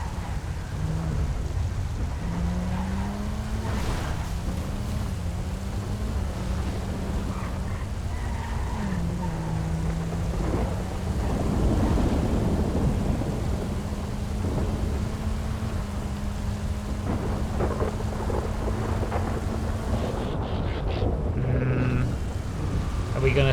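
Rain falls steadily with rumbles of thunder during a GTA FiveM racing game. A continuous wash of rain sits under a droning engine tone that rises and falls throughout.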